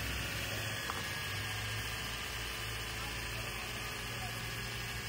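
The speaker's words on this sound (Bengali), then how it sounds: "ইঞ্জিনের আরপিএম এখন কমে গেছে, তো ইঞ্জিনের সাউন্ডটাও একদম চেঞ্জ হয়ে গেছে" A car engine idling at lowered RPM, a low, even hum with steady vibration, heard close and continuous throughout.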